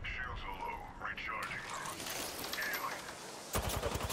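Bursts of gunfire in the battle royale video game Apex Legends, rapid shots and weapon mechanisms clattering under the excited talk of a player.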